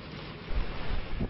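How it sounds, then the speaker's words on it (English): Strong wind and rain from severe tropical Cyclone Rusty in the coastal town of Port Hedland roar as a continuous gusting rush that buffets the microphone, with heavier low surges and no voices. "This strong wind and rain in the town of Port Hedland, just a small foretaste of what's to come."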